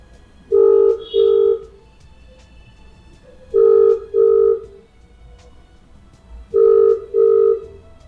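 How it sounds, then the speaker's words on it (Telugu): A telephone ringback tone sounds on the caller's end during a call, with three evenly spaced double-pulse rings separated by silent gaps. The tone is clear and steady, with no talking. "ఒకసారి అయితే ఫోన్ చేసి కనుక్కుందాం"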